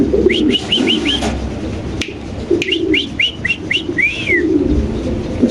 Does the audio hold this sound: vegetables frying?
no